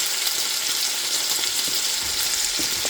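Scrambled eggs with blueberries sizzle in a pan, a steady close hiss with a soft crackle that stays even throughout, no voices.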